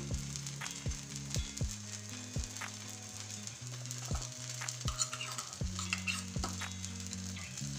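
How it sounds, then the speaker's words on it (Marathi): Bread pizza topped with filling fries in butter in a pan over a high gas flame, giving a steady close sizzle with repeated sharp spatula scrapes and stirring knocks throughout, no talking. "गॅस मोठा करून याला दोन्ही बाजूकून आपल्याला चांगलं फ्राय करून घ्यायचं आहे।"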